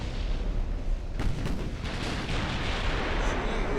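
Heavy 14-inch battleship guns boom in a naval battle game, several deep blasts landing in quick succession over a continuous low rumble, loud and close.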